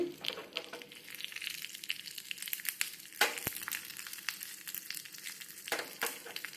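Cumin seeds roast in a pan for unripe jackfruit sambhar, a soft continuous sizzle and crackle close by with a few sharper scrapes and clicks, no voices.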